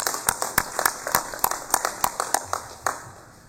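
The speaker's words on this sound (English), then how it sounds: "Let's give him a round of applause." Scattered hand claps from a small audience applauding an ambassador, around a dozen distinct sharp claps in an irregular, uneven rhythm at moderate distance, with no sustained roar of a large crowd.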